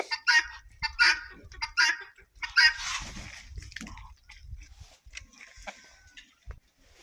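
Several ducks and drakes quack in loud, rapid bursts, some harsh and honking, with softer rustling and scuffling between calls.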